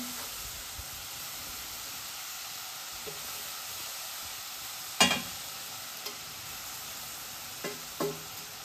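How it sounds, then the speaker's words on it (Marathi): Sugar is stirred in a kadhai over a low flame for gulkand, giving a faint, steady hiss with a few sparse scrapes and light knocks against the pan, close but quiet, with no voices. "आणि हे सतत ढवळत राहायचं आहे साखर विरघळेपर्यंत"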